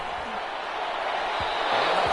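Stadium crowd noise in a football video game: a steady, dense roar that swells slightly, heard throughout.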